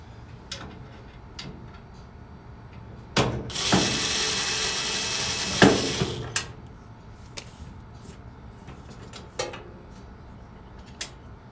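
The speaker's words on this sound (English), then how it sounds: "now we're going to remove these two black screws, which are Phillips head" Close mechanical clicking and ratcheting as a screwdriver removes Phillips screws from a gas valve bracket on a Kenmore Elite dryer, with a few seconds of loud continuous buzzing in the middle and scattered sharp ticks.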